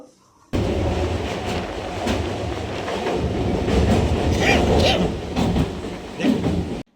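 A moving train is heard from beside an open carriage door. Its loud, continuous rumble and rattling wheel clatter start abruptly and stay steady throughout, with no one speaking.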